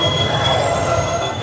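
Wheels of the Rajya Rani Express squeal loudly and close at hand, a sustained high metallic screech over the heavy rumble of the rolling coaches.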